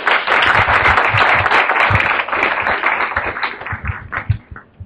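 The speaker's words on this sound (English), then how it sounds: "I'd urge you to clap all our panel" Audience clapping for a conference panel at an internet governance forum workshop, a dense, even round of applause that thins out into scattered, separate claps near the end.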